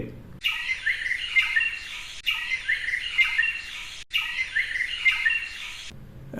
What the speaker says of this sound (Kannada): ಹಕ್ಕಿಗಳ ಚಿಲಿಪಿಲಿ ಸಹ ಇದೆ.